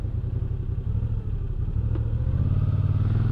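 A Moto Guzzi V9 Roamer motorcycle engine idles while stopped, a steady low throbbing rumble with a slight rattle, holding even and close for a few seconds with no talking.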